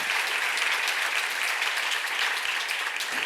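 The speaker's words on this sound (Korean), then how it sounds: "박수하세요." A church congregation claps together in a dense, steady burst of applause throughout, with no voices on top.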